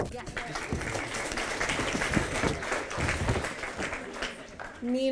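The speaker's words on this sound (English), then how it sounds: "You can clap." An audience at a high school senior art show breaks into steady applause for an award, a dense wash of clapping that continues throughout before a voice cuts in at the end.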